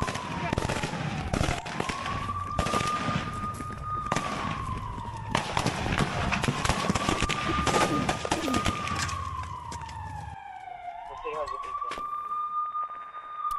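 Gunfire between Russian and Ukrainian soldiers in Ukraine, rapid cracking bursts under a loud wailing siren that rises and falls repeatedly.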